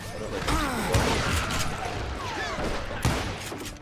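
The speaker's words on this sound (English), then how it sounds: "They're catching us in a crossfire" Several sharp gunshot bursts from the video game Call of Juarez: Gunslinger crack out over a busy background of crossfire, with louder shots standing out near the start and toward the end.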